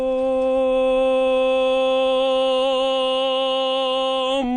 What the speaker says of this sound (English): this is the sound of a tenor singing a Handel aria which was actually written for castrati